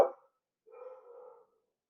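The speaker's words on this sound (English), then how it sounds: "Ladies, can you stop barking?" Several dogs give a short bark, then after a brief pause a longer muffled bark or whine, close and moderately loud with silence between.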